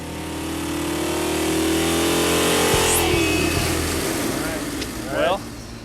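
A 1982 Camaro small block engine making 383 horsepower, revving up in a steady rising pull close by, then easing off, with a voice speaking over it.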